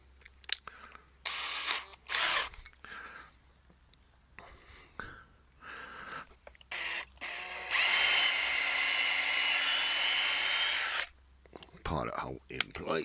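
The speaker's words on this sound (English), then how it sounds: "so we'll just replace that again to put a pilot hole through" A power drill bores a pilot hole through pallet wood for a garden build, a steady loud whine lasting several seconds after shorter bursts of handling noise, with someone talking quietly between.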